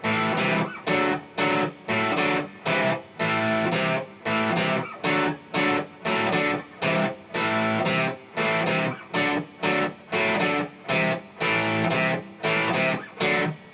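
Electric guitar plays an intro riff with a slightly distorted tone, in steady chopped rhythmic bursts with short gaps between, loud and alone with no talking.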